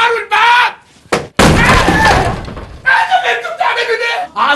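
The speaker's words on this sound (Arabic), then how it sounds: "اكسروا الباب" People bang hard on a door as they try to break it open. Heavy thuds and slams sound up close, with loud shouting voices all around.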